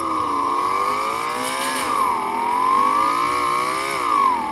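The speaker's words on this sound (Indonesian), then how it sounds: "kalian bisa dengar guys untuk suara mobil ya dari FF Max ini" Car engine from the mobile game Free Fire Max, a steady buzzing whine that rises and falls in pitch as the vehicle revs and shifts, loud and continuous, with no talk over it.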